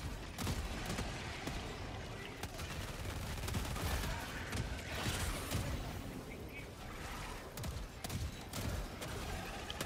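Autocannon fire in Helldivers 2 rattles through a battle against bugs, repeated fast heavy bursts and booms mixed with other gunfire, continuous and fairly loud, with players talking over it.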